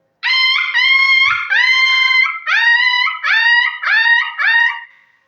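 A human voice imitating a dog, loud and close: seven drawn-out, whining howl-like yelps in a rough rhythm, each rising then sagging, with brief gaps and nothing else behind.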